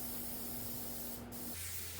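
Clear shellac primer sprayed onto an antique dresser indoors in a workshop, a steady continuous hiss that runs unbroken for the whole stretch, close and fairly loud, with a fan's hum beneath it.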